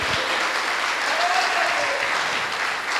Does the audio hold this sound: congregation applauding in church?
yes